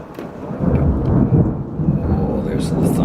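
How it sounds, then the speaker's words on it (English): Rolling thunder rumbles low and steady through a storm while roots are trimmed from a wisteria bonsai during repotting, with faint rain and a brief voice in the background. "Oh, there's the thunder."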